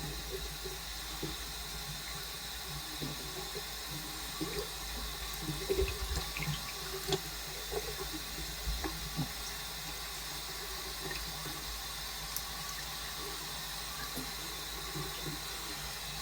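Tap water runs steadily into a porcelain sink while a straight razor is rinsed under the stream, making a continuous close hiss with small knocks and splashes during a shave.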